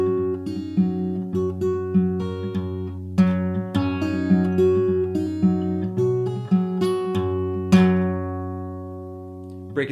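An acoustic guitar with a capo plays the verse of a folk song, clear plucked notes ringing over a steady alternating bass at a moderate, even pulse, close and alone without voices.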